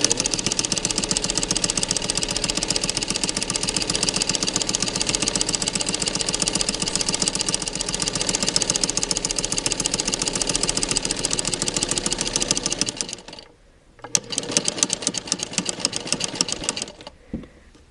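A sewing machine fitted with a flower foot quilts circles into beige-threaded whole-cloth fabric with a fast, steady mechanical whirring and rapid needle stitching. It pauses briefly, then runs again.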